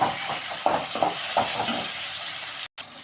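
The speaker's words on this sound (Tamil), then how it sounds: "அடுத்தது தக்காளியை போட்டுட்டு நல்லா வதக்கி விட்டுடுங்க." Onions and tomatoes sautéing in a pan give a bright, continuous sizzle with several soft stirring scrapes early on, close and fairly loud, then a sudden brief dropout near the end.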